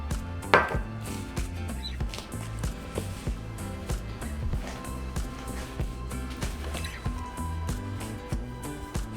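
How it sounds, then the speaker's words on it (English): Hands work shortening into flour in a mixing bowl for sopapilla dough, making a series of soft, regular thumps and squishes close by. Nobody talks during the mixing. "So you're just going to work your shortening along with your flour."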